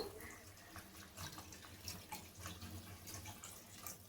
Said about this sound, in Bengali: আমি 1 বাটি জল দিয়ে দিলাম।